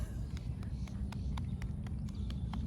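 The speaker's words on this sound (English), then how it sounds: "That's a lifetime of horses spooking." A spooked horse moves during a riding lesson, its hooves thudding in a quick, uneven clip-clop over steady low rumbling background noise, with no talk.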